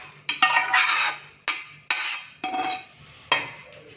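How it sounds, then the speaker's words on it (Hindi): Boiled beef tipped and scraped into a karahi pan, with sharp metallic clanks and scraping bursts in several separate pulses, close and fairly loud, no talking. "माशाल्लाह से बीफ को हमने अच्छी तरह से बॉईल करके तो कढ़ाई के अंदर डाल दिया है"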